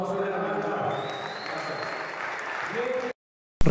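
A crowd of bikers at a motorcycle gathering applauding together, a dense, steady roar of clapping that holds for about three seconds before cutting off abruptly into silence.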